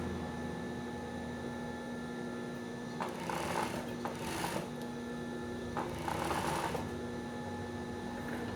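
A sewing machine runs a straight stitch along the central seam of a swimsuit in two short bursts of fast rattling stitching over a low steady motor hum, with a soft click between runs, no speech.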